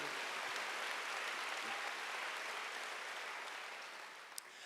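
A church congregation at a Korean Wednesday worship service claps together in a dense, sustained wash of applause, steady and fairly distant, fading slightly near the end, with no speech over it.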